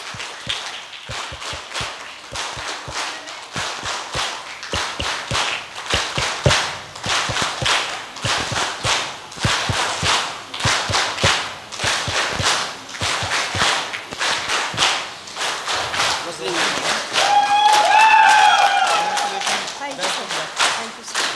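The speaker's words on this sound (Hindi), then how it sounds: "एक जोरदार ताली हो जाए हमारे प्रमोटर" An audience at a company promoter recognition event claps for the promoter from Manipur, with sharp rhythmic handclaps that build into sustained applause, alongside a voice talking over it.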